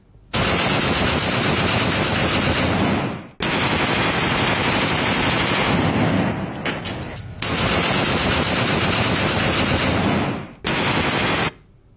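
Aerial gunfire shown in news footage, long sustained bursts of rapid automatic fire, loud and dense, broken by short gaps between volleys and with no talk over it.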